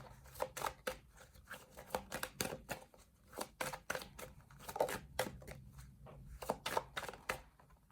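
Tarot cards shuffled by hand in quick, irregular bursts of riffling and slapping, close and fairly quiet, continuing for several seconds.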